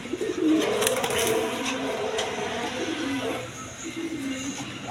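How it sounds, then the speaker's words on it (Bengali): A pair of red Gorra pigeons coo in low, repeated rolling phrases that run through the stretch, with a voice talking over them. "এখানে এক পেয়ার রেড কালার গররা কবুতর আছে"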